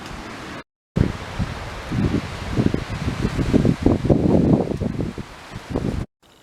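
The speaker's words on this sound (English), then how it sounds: "It is, as you might be able to hear, super windy." Strong wind gusting outdoors close to midnight in December, ahead of a snow storm, a steady rushing roar with surging gusts and brief dropouts, loud and continuous with no talk.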